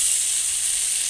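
Chopped tomatoes and green chillies fry in hot oil in a home kitchen pan, giving a steady, close, bright sizzle with no break.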